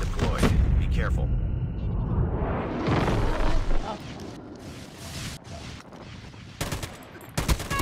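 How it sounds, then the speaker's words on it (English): Napalm strike in Call of Duty Mobile ground war: a dense wash of roaring fire and booming blasts swells across several seconds, with sharp gunshots cracking over it and voices speaking on top. "Enemy napalm has been deployed."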